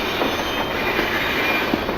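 A Trainz game train running along rails with a continuous rumbling roll and faint clickety-clack, steady and fairly loud, with no voices.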